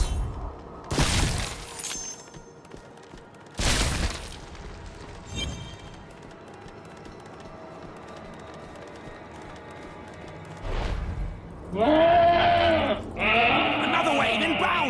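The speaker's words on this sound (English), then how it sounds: "Make these goats bleat their last." Goats bleat in a Diablo Immortal monastery battle, their cries loud and wavering near the end amid sharp crashes and shattering hits from the fight, with heavy ambient noise between.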